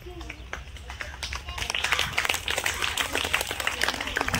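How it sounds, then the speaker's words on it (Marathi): School students at a morning assembly break into loud applause, a dense wash of clapping that swells after a quiet start and holds steady, with voices mixed in. "जोरदार टाळ्या"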